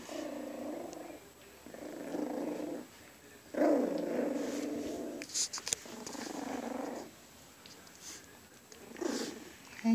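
A pile of puppies gives repeated low rumbling grunts and purr-like growls in several bursts, close and fairly loud, with brief pauses between them and no talking.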